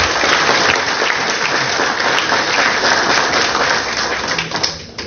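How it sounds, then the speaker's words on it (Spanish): Sustained applause from an audience at an education conference on technological education in Peru, loud and dense for several seconds before tapering off near the end. "La recibimos con un fuerte aplauso."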